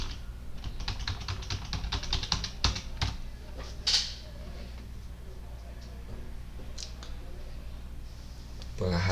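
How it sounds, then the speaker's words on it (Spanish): Keys on a computer keyboard are pressed in a rapid burst of clicks during a Solver spreadsheet lesson, then a few isolated taps follow in a quiet room. "por eso voy a darle Shift Control Enter"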